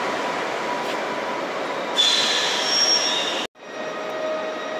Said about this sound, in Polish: I odjeżdża sobie Impuls Newagów.